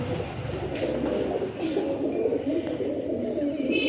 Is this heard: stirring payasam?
no